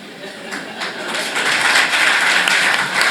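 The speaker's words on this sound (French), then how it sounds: "Applaudissons très fort pour cela." Applause from a crowd at a civil wedding ceremony at a town hall, a steady broadband patter of many hands clapping that swells slightly and holds loud throughout, with no speech over it.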